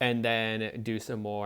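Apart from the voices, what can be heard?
No everyday noise stands out behind the speech.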